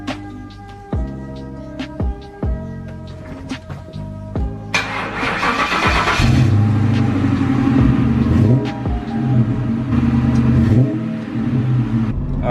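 A 1998 Ford Mustang GT V8 heard up close as it turns over and starts, with a few short blips, then settles into a loud, steady idle and rumble that builds slightly, with no talking.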